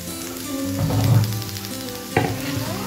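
Shrimp tipped into frying potatoes for a Bengali posto dish, a loud close sizzle that surges as they land, with scraping stirs and a second clatter near the end.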